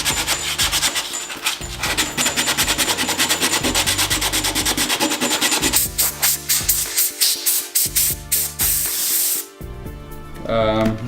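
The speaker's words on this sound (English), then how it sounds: "you also want to feather edge the area around the damage so the resin can adhere to the surfboard" Rapid back-and-forth sanding scrubs a surfboard, feathering the edges around a ding before resin goes on. The strokes are loud and close, fast and rhythmic, and they slow toward the end.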